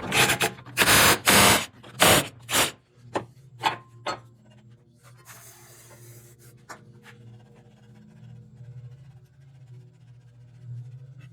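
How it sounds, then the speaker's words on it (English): Jam nuts are backed off on a chain tightener bearing in a barn, giving a loud burst of close metallic scraping and ratcheting strokes that trail off into scattered clicks over a low hum. "now I got these jam nuts all backed off"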